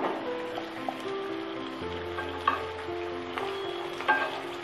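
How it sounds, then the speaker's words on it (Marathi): Chopped ridge gourd sizzles steadily in hot oil with chana dal in a pan, a soft constant crackle with a few small pops and stirring, close and moderately quiet. "चण्याची डाळ तेलात छान भाजून झाली आहे, आता त्याच्यामध्ये आपण हा दोडका घालून घेऊया।"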